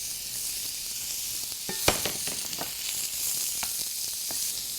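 Small pieces of chopped zucchini cook in a pan with a soft, steady sizzle, broken by a few brief clicks and taps of stirring, fairly quiet and free of talk.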